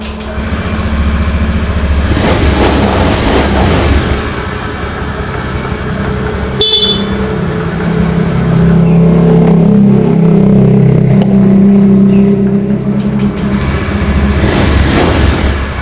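A Honda Beat scooter engine runs steadily after a kick start, a loud close idle with a mid-pitched drone that swells slightly partway through, heard alone without talk.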